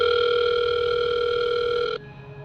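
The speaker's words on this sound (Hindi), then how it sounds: "उस वक्त तक जब तक उसकी पॉकेट में रखा फोन नहीं बजा।" Phone in a pocket gives a loud, steady electronic ringing tone for about two seconds before cutting off abruptly, leaving quiet background.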